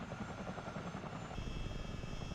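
A counter-rotating helicopter in Microsoft Flight Simulator churns with a steady, close rotor thrum and engine whine, the tone shifting slightly partway through, with no one talking.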